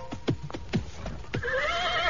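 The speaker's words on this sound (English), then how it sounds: "I pulled up my horse and dismounted." A horse neighs at the end of its ride, preceded by several clopping hoof steps, before a long, loud whinny rises and holds, close and clear with no talk over it.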